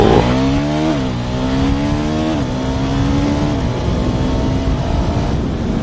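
A third-generation KTM Duke 390 motorcycle speeds up hard on an open road. The engine note climbs through the gears with clear pitch drops at each shift, loud and close, with wind rush underneath and no talking.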